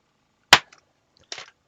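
A glass-working torch flame lit for making clear glass chain links: one sharp, loud ignition pop, followed about a second later by a shorter, softer burst, with silence between.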